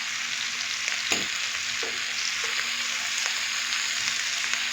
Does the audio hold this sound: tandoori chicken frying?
yes